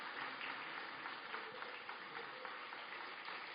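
Church congregation clapping during a Sunday worship service, a faint, even wash of applause lasting a few seconds in a large room.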